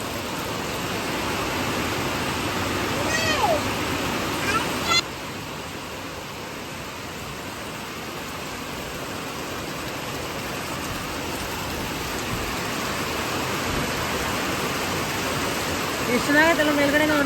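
Heavy rain pouring down at night in a village, a constant dense hiss close by with a brief louder patch and faint voices speaking under the downpour.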